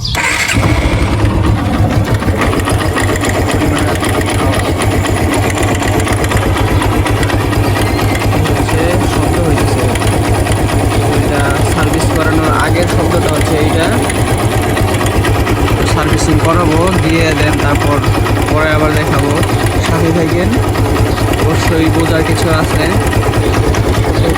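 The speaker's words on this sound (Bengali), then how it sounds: "টেপিটের মানে ইঞ্জিনের হেটে যে শব্দটা হয়" A motorcycle engine idles loudly and steadily throughout, with a continuous mechanical tappet ticking chatter over the low rumble, close to the microphone.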